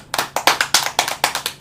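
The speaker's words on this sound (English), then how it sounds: "Let's give another round of applause." Close, sparse applause at an online art challenge winner announcement, about a dozen sharp claps in an irregular rhythm, as if from one or two people rather than a crowd.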